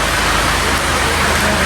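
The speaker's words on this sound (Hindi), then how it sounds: "काफ़ी बारिश आ रही है माशाल्लाह" Heavy rain pours down outdoors near a tractor and parked vehicles, a dense, loud, continuous hiss that fills the whole moment.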